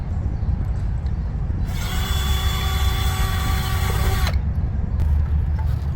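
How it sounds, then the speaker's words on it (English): A power drill whines steadily for a few seconds in a single burst, close by, drilling mounting holes for an RV exterior porch light, over a constant low background rumble. "now that my holes are drilled"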